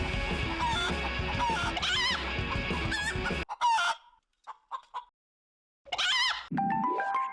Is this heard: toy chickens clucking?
yes